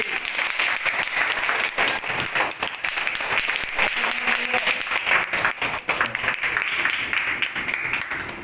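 Applause from guests at a church wedding ceremony, dense sustained clapping from a crowd, fairly close and steady throughout with no pause.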